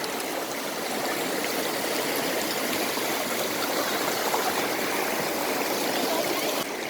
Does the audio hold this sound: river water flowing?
yes